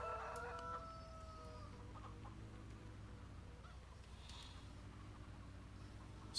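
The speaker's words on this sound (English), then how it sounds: "We have our chickens just out here in the way." Chickens in the farming video game Farming Simulator 17 cluck and squawk in short bursts at the start, then fall to softer intermittent clucks over a low steady hum.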